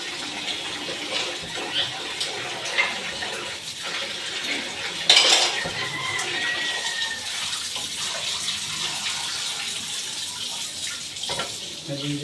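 Running tap water and the clatter of dishes and cutlery being rinsed in a sink, steady and close, with a brief louder splash midway.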